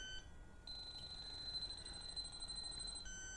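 An H10 refrigerant leak detector, checking R-134a, gives a high electronic tone that holds steadily for a few seconds after a short starting chirp. The tone sounds close, clear and alone against faint background hiss.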